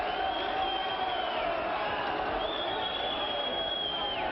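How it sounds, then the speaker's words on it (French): A wrestling crowd applauds and cheers in a continuous dense wash of clapping and voices, steady and fairly distant, with a commentator's voice faintly over it. "Sous les applaudissements bien sûr du public"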